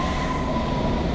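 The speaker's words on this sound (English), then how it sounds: "That train is moving and my train is coming." A train pulls into East Ham station in London, a steady, loud rumble of wheels and carriage noise that holds evenly throughout with no voices.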